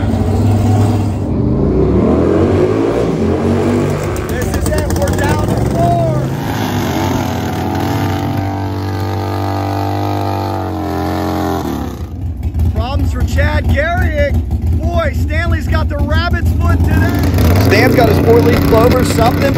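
Turbocharged bagger motorcycles drag racing, engines roaring loud and near with rising revs and gear changes, a sputtering, uneven stretch later on, while a commentator talks over the sound.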